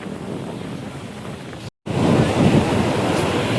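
Strong sea wind and breaking waves on a beach make a broad, continuous rushing roar with heavy wind buffeting the microphone, briefly cut off, then returning louder.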